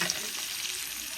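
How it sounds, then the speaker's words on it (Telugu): Fresh fish fries in a pan with a steady, close, dense sizzle that runs unbroken the whole time, with no voices over it. "ఇంకా మనకి ఫ్రై అవ్వాలి ఇది."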